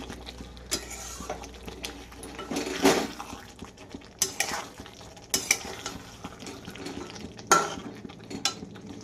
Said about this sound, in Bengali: দেখো, দিয়ে দিলাম আলু পটলটা, দিয়ে নেড়ে নেব।